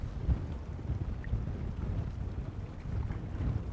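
Steady wind buffets the microphone in low rumbling gusts, continuous throughout with no voices.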